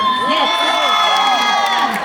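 A convention panel audience cheers and whoops in a packed hall, a dense burst of excited voices and shouts rising together, close and loud.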